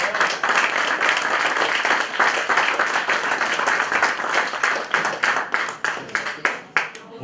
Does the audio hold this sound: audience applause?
yes